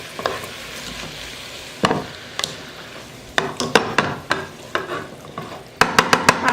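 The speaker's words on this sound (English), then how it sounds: "so now we're just going to give this a stir" A pot of cod fish stew is stirred, with a soft simmer underneath and a run of sharp utensil scrapes and taps that grows busier and louder toward the end.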